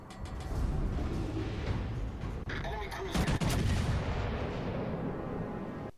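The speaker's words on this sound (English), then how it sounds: "we still get a very nice 18k salvo into that guy" A USS Iowa battleship fires a heavy gun salvo in the naval video game World of Warships Legends, a loud booming broadside with rumbling echoing blasts that fill the whole stretch, followed by a second thunderous volley.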